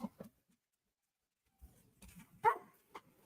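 Indoors, a dog gives a few short barks and yips at someone arriving at the door, sparse, fairly close sounds with quiet gaps between them.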